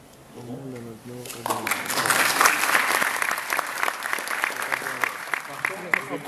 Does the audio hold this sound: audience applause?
yes